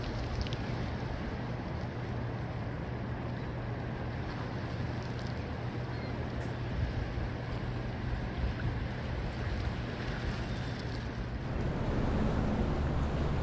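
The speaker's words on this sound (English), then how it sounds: "It's amazing, all the activity right there. A lot of water coming through." Heavy rushing water pours through the dam spillway outfall at Conowingo, a loud, steady broadband roar with wind buffeting the microphone, swelling slightly louder near the end.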